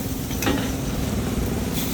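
Flat rice noodles (kway teow) hiss and sizzle in a hot wok at a food stall in Alor Setar, Malaysia, with a continuous crackling fry and light scraping of a spatula.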